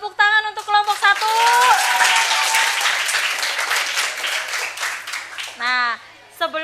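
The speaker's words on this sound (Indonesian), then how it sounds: "Tepuk tangan untuk kelompok 1." A classroom bursts into applause for the winning student group, a thick wash of many hands clapping close by. Voices speak before it begins and again as it fades near the end.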